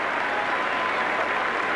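Stadium crowd applauding a rugby league try in a St Helens versus Australia match, a steady, dense wash of clapping and cheering that fills the whole stretch without pause.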